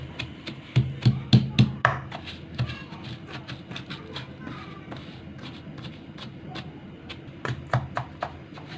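Soaked rice for badami kheer is pounded in a pot, a burst of sharp, rhythmic thuds near the start, then scattered softer knocks and a few closing strikes, close and loud with no speech.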